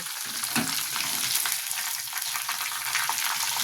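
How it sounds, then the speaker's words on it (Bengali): Chicken pieces spluttering loudly as they fry in a mix of butter and oil, a dense, close, steady crackling hiss with frequent sharp pops. "ভীষণ ফাটছে চর্বি ছিল চিকেনগুলো"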